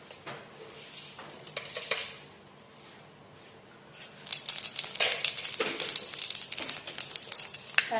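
Panch phoron whole spices frying in hot oil for a rajma paneer dish, a steady crackling sizzle that turns louder and denser halfway through, with occasional utensil clinks and stirring scrapes nearby.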